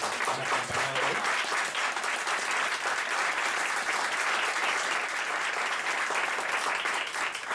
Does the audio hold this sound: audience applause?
yes